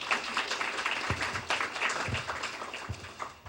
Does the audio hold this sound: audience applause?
yes